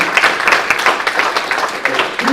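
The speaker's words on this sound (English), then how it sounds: "let's give a round of applause to our guests here" Guests at a Capitol Hill briefing on UAPs receive a round of applause: a steady patter of many hands clapping in a room, fairly loud and continuous, with faint voices beneath.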